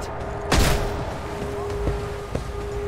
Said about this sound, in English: A grenade there for good measure.